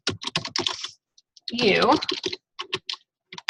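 Fast clicking of computer keyboard keys comes in quick bursts, close and fairly loud, alternating with a woman's speech that carries through the middle.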